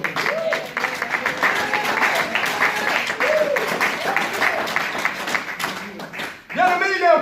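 A church congregation applauds and acclaims the Lord in steady, busy clapping with cheering voices, and a louder shout of acclamation near the end.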